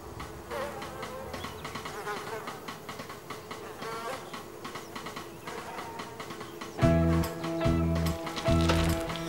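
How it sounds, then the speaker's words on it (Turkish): A busy, droning buzz of insects like bees, with a louder low rumbling hum joining in near the end. "Arılar! Çabuk! Koş!"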